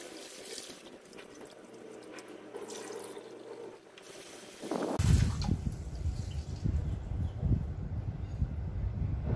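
Water pours into a pot of sticky rice being readied for biko, a steady splashing gush up close that grows louder after a quieter start.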